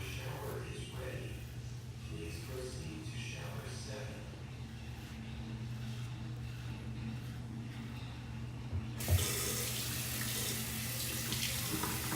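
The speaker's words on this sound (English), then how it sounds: "the water pressure is not the greatest coming out of the sink" After a quiet stretch with faint background hum, a truck stop sink tap with weak water pressure is turned on near the end, and water gushes steadily into the sink, loud and close.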